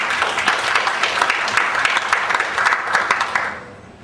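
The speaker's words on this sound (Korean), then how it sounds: "박수." Lively applause from a forum audience welcoming a speaker, dense clapping that holds steady then fades out over the final half second.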